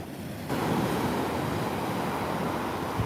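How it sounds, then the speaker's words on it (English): Ocean waves washing onto a calm beach, a broad continuous surf roar that swells in abruptly and holds steady, with some wind rumble and no voices. "I couldn't ask for a more calming, gorgeous beach"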